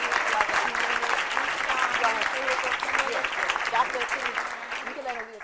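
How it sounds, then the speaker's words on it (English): Audience applause at a morning panel event on segregation and Black Lives Matter, sustained clapping from a room full of people that fades slightly toward the end. "Let's give them a round of applause."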